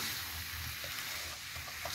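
Swai fish fried with garlic and pepper sizzles faintly and steadily in a pan, a soft continuous hiss with a few light stirring taps.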